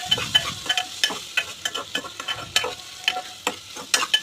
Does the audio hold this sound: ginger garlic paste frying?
yes